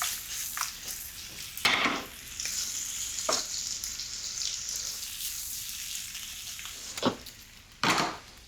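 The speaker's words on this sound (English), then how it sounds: "Add some more mushrooms. Give them a toss." Mushrooms sizzle steadily in a hot pan for a risotto, with a few sharp clattering bursts as the pan is tossed, loud and close without talk.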